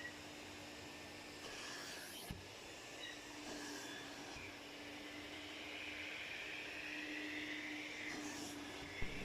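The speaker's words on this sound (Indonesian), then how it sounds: "setelah semuanya benar-benar sudah kita vakum nih, kita sedot airnya" A wet and dry vacuum sucks water out of a dirty spring bed mattress, giving a steady, loud, continuous motor roar with a slight rise in pitch toward the end and no pauses.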